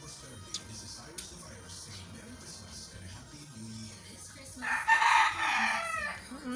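Farmyard chickens cluck intermittently under nearby talk, then a rooster lets out a loud, drawn-out crow toward the end, close and prominent.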